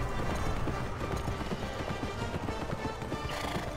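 A horse gallops in the video game Kameo, its hooves pounding in a quick, steady clip-clop rhythm at a moderate volume, with a faint whinny mixed in and nobody talking.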